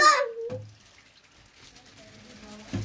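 Water is poured into a home fish aquarium in two brief splashing bursts, one at the start and one at the end, with a quiet stretch between them and faint voices nearby.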